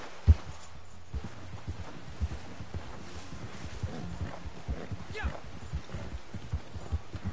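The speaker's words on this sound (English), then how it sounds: "Come on, horse. It's just a small brook." A horse in Red Dead Redemption 2 plods across a small brook, its hooves giving a steady, soft clip-clop up close, with a low background hum and faint talk underneath.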